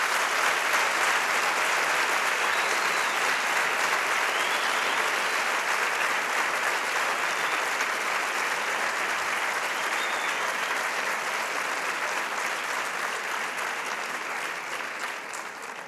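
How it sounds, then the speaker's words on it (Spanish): A concert audience applauds a local town band at an album-presentation concert, with dense, sustained clapping that holds strong before gradually thinning out at the end. "Un aplauso, por favor."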